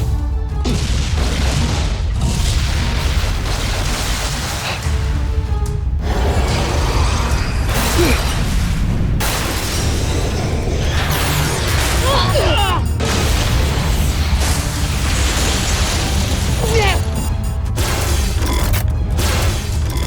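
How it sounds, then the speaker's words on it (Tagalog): Voltes V giant robot bazooka firing and exploding in an animated battle: heavy continuous booms and blasts with mechanical clanks, loud and dense throughout, dipping briefly midway. "Voltes! Bazooka!"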